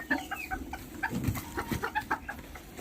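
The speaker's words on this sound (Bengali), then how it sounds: "আমাদের কাছে এক জোড়া জাপানিজ হোয়াইট টেল ব্যান্থাম আছে" A pair of Japanese white-tail bantam chickens cluck in quick, short bursts close by, a busy run of soft clucks and squawks with no talk.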